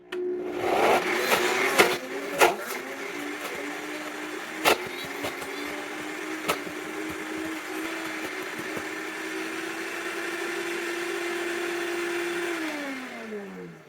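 A Buchymix Classic Turbocrush blender whirs at a steady pitch while hard frozen berries knock and crack against the jar, loudest early and then settling into a smooth drone.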